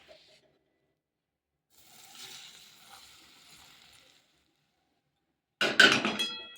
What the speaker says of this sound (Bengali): তেলটা ফুটিয়ে রেখেছি সর্ষের তেলটা এটা আমি ঢেলে দিচ্ছি